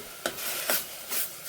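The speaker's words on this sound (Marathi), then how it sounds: "कांदा थोडा परतून घ्यायचा आणि टोमॅटो टाकायचं" Onion and tomato sauté in a pan for a paneer dish, with three distinct stirring scrapes over a soft, steady sizzle.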